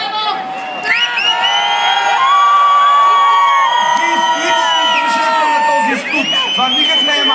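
A large outdoor crowd at a 2012 New Year celebration in Sofia cheers and whoops loudly and steadily for about seven seconds, with whistles and shouting voices rising above the roar.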